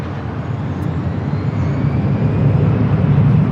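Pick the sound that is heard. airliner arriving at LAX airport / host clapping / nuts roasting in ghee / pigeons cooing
airliner arriving at LAX airport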